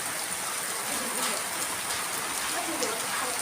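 Heavy summer rain pours down steadily as an even, dense hiss of drops on surfaces, close and continuous throughout with no pauses.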